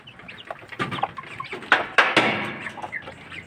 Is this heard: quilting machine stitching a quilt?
no